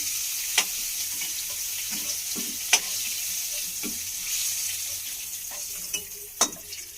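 Cauliflower pieces fry in hot oil in a wok with a steady, soft sizzle, broken by a few sharp clicks of a utensil stirring against the metal, close by and with no talking.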